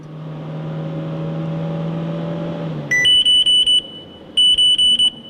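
A Mobileye driver-assistance collision warning sounds inside a vehicle: two bursts of rapid, bright electronic beeps that cut in after a steady engine and road hum fades.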